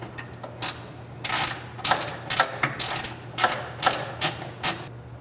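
Ratchet wrench tightening bolts while installing an AMP Research BedStep2 truck bed step: rapid bursts of metallic clicking in uneven runs, close and fairly loud over a steady low hum, no talking.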